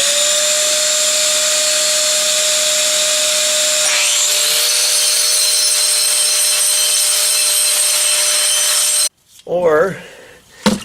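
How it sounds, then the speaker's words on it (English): Concrete floor grinder taking down a high spot with a vacuum attached for dust, a loud steady whine and rushing roar that shifts pitch midway, then cuts off abruptly near the end, followed by a brief rough scraping. "this grinder right here will work well taking that high spot down, but you use a vacuum to get the dust away from it"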